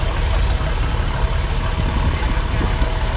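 A steady, loud 1954 Farmall Super MTA tractor engine idles close by at a tractor parade, a low rumbling drone that holds even throughout with no breaks.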